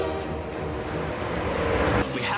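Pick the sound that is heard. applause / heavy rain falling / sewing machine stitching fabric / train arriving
train arriving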